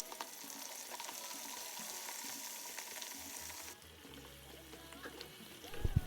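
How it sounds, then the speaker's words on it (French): Chicken meat frying in a bath of very hot oil, a steady bright sizzle with small crackles and pops, near and continuous, ending in a few louder spatters. "On la fait frire dans un bain d'huile bien chaud."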